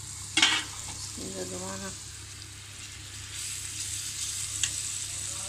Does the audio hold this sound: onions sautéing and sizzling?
yes